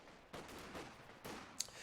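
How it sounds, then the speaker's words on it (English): Machine-gun fire in a video game match on the Nexus map, an MG set up to shoot through a hole in a wall: two sustained bursts and a sharp crack, muffled and fairly quiet, with no voices. "MG was set up in a decent position, firing all the way through that hole in the wall."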